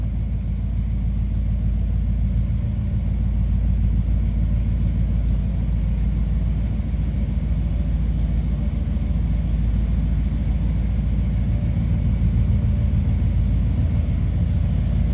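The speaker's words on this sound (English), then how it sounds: "This is a good sounding car." A 1958 Chevrolet Impala two-door hardtop idles steadily, a deep continuous rumble close by with no change in pace throughout.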